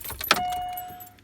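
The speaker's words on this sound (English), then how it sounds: "Let's go back to turning the car on." A 2005 Pontiac Wave (Chevy Aveo) is switched on, a sharp click of keys and ignition followed by a faint electronic tone that fades, heard close inside the car.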